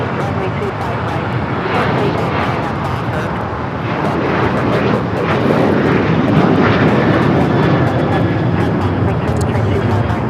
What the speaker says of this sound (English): American Airlines 791 taking off to Chicago on the 737-800